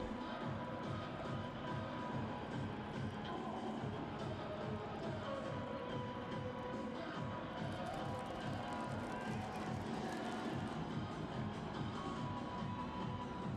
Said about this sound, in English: he gives the fans at Subaru Park something to cheer about